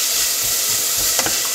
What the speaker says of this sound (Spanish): Vamos a dejar que se haga a fuego medio hasta que estén blanditas